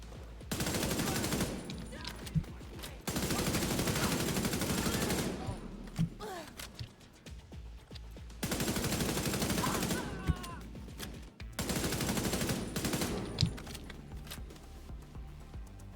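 Division 2 gunfire comes in long, loud bursts of rapid automatic shots, separated by short quieter gaps with scattered single cracks and brief voices.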